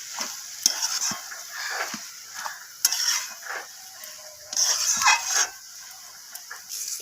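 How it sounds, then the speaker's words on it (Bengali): Green peas sautéing with spices in a pan for a cabbage and fish-head ghonto, a close crackling sizzle with repeated scraping and clacking of a spatula, swelling louder in bursts. "তো মটরশুঁটিটাকেও আমি কষিয়ে নিচ্ছি।"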